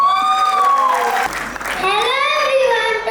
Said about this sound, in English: today with a huge round of applause